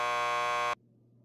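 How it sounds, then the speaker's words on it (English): A door buzzer in the Max Payne 2 video game gives a loud, steady electronic drone for under a second, then cuts off abruptly, leaving a low hum. "Just press the buzzer by the door."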